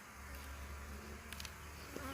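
Honeybees swarm around an open hive during an inspection, a dense, continuous buzz close by with no pauses and a few louder passes near the listener.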